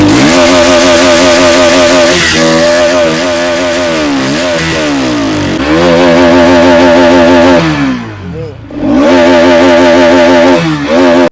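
A Bajaj Pulsar NS 200 motorcycle engine and exhaust roar loudly at close range through repeated throttle blips, the pitch dipping and climbing, with one short lull before it revs again.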